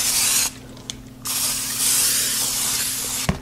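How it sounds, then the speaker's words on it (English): Cooking spray hisses onto a baking pan in a home kitchen, a loud close burst, a short pause with a faint tap, then a longer steady spray that ends with a light clatter. "I'm just going to take some cooking spray. I'm going to spray the bottom and the sides."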